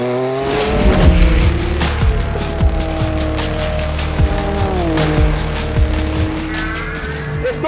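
Porsche Group C race car lapping the Top Gear test track, a loud close engine roaring through rising and falling revs with sharp gear changes and a brief tyre squeal, no talk.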